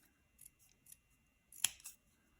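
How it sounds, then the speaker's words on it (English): Scissors snip through a thick plastic drinking straw being trimmed at the sides for a craft, giving one sharp close cut followed by a lighter snip in a quiet room. "I'm going to trim a little bit off from the sides"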